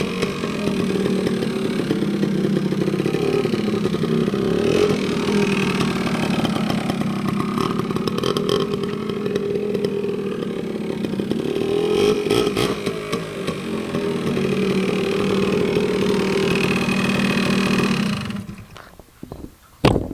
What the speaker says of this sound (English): This is a Yamaha RT180.